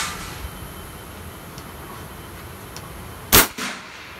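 A single loud M25 9mm pistol shot cracks out sharply near the end, followed by a brief echoing tail, after a stretch of quiet background.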